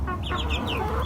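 Chickens clucking close by in short repeated bursts, several birds calling over a low steady background rumble.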